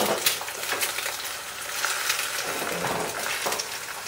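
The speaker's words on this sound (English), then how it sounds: "And that's basically all I do as far as frying the eggs." Steady crackling sizzle of eggs frying over easy in a pan, with a few faint clinks of a utensil against the pan.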